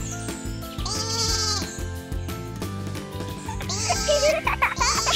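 A toy sheep bleats in warbling electronic bursts over a bouncy, jingly backdrop of music.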